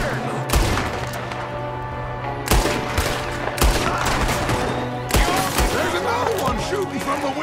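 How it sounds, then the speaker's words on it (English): Gunfire in a Red Dead Redemption 2 shootout, with a gang member shooting from a window: several loud, sharp shots and quick bursts ring out over a constant battle din, with voices heard in between. "Another one shooting from the window!"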